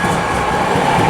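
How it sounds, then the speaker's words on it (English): A light rail train rolls past near a football stadium on an NFL game day, its steady, loud rumble and rail noise filling the whole stretch without a break. "Here comes a train. You got to see this train."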